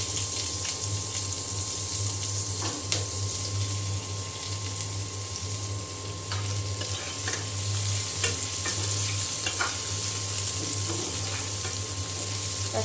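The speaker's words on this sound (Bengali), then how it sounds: "এখন তেলের সাথে খুব ভালো করে রসুন আর পেঁয়াজ আমি ভেজে নেব।" Chopped garlic and onion fry in hot oil with dried chillies, a loud, steady sizzle that runs throughout, marked by occasional stirring clicks and a constant low hum.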